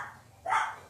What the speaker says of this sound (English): Those are my guard dogs. Oh yeah, they're going to the door.